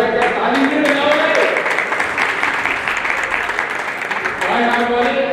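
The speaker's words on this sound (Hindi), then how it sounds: "क्या ताली नहीं बजाओगे?" A crowd at a birthday gathering for an MP, held alongside a blood donation camp, bursts into sustained, loud applause, with many hands clapping together in a dense, steady roar that lasts several seconds.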